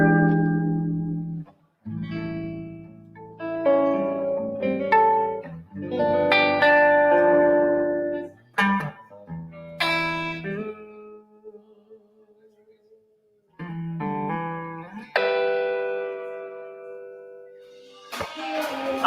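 Clean electric guitar notes and chords through a Blackstar amp's clean channel ring out with a spacious hall reverb tail, played alone at moderate volume with pauses and sustained tones.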